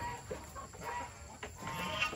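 Native hen clucking softly in short, uneven calls amid low background noise outdoors, fairly close but not loud.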